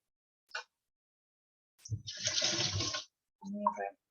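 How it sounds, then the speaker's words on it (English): Hands rinsed under a running kitchen tap while baking brownies, a steady rush of water lasting about a second, with a short clatter before it and a brief murmur of voice after. "Rinse my hands."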